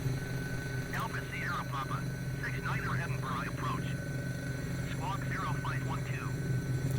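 An Airbus H135 helicopter in Microsoft Flight Simulator drones steadily with a low rotor and engine hum, while someone talks over it.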